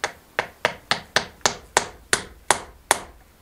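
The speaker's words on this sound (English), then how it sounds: "Mortar in there. Take our stone, take our hammer." A hammer taps a stone down into fresh mortar while a stone courtyard wall is rebuilt, giving nine sharp, evenly spaced knocks, close and clear, with no talking.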